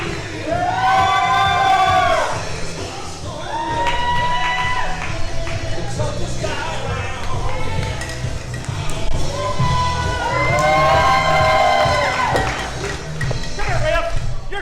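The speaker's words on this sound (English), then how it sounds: "Listen to this crowd." Wrestling crowd at a live LWA Proving Grounds show, loud and continuous, with cheering and shouts swelling in waves over steady background music and bursts of voices.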